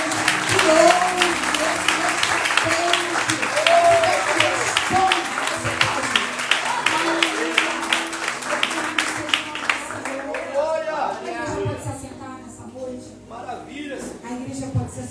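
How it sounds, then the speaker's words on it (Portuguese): Church congregation applauding for God during a service: a full room of steady clapping under a voice speaking and singing over it, tapering off and giving way to quieter talk near the end. "dar uma salva de palmas para esse Deus que ouve"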